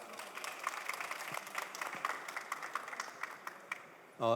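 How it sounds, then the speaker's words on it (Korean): Audience applause at a Korean startup investment conference session, greeting a venture capital executive as he is called to the stage; steady clapping fills the hall for a few seconds before a brief louder burst at the end. "큰 박수 부탁드리겠습니다"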